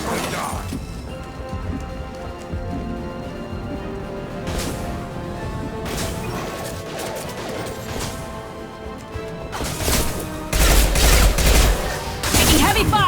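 Rapid gunfire and impacts in the video game Mass Effect Legendary Edition 2, a sustained firefight with bursts of shots and crashing hits, loudest near the end.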